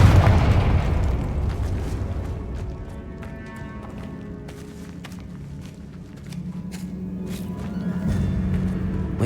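A Confringo explosive spell blast in Hogwarts Legacy erupts with a loud, booming rumble that lingers, followed by continuing game ambience and low rumbling through the rest of the stretch.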